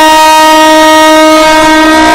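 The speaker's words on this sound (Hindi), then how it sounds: "खजरी से निकलने के बाद देखिए ट्रेन कितना ज़्यादा हॉर्न मार रहा है यार" Jaynagar–Janakpur train in Nepal sounds its horn, a very loud, sustained, steady blare held throughout, heard close while the train runs beneath it.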